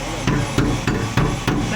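Repeated heavy hammer blows on the metal body of a 2000 kg Traviz truck, about six evenly spaced strikes ringing close by over a steady background hum.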